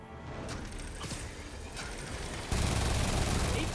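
Minigun fire in the Spider-Man PS5 video game, a dense, continuous rattling barrage mixed with mechanical clanks that swells to a louder, harsher burst for the final second.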